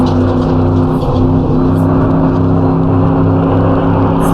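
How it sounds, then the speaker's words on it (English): Race car engine in the Assetto Corsa racing game during an endurance race, droning steadily and loudly with continuous harmonic tone and small throttle variations throughout, no voices over it. "It might sound like I'm just stabbing at the throttle here and there"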